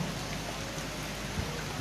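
Steady rain falling during an outdoor religious sermon gathering, a continuous broadband hiss with no distinct drops, moderately loud and alone without talk.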